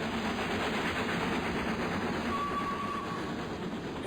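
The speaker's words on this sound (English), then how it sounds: "it looks like the steam engine's going to come by" A steam train in Farming Simulator 19 rolls past with a steady, continuous rumble and rail clatter, loud and close throughout, with a faint whistle-like tone near the end and no talking.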